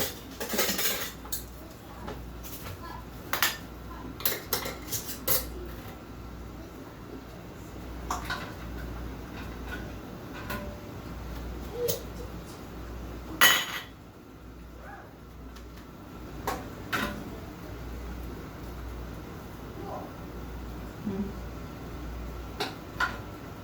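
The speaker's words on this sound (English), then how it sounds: "The last can is getting screwed on." Metal canning lids and rings being screwed onto glass jars of home-canned corn, with scattered clinks and scraping twists at close range over a steady low hum, no talking.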